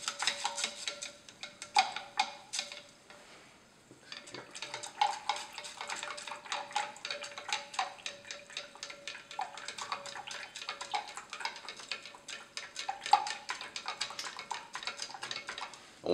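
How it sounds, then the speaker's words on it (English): Fomafix developer powder crystals are stirred in solution, making soft, quick, repeated scraping and crunching taps against the container in a steady rhythm, close and fairly quiet, with one short pause. "I can hear them crunching around in there, and you can actually feel it dissolve as you stir."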